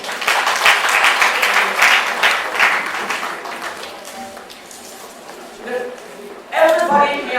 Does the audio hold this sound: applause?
yes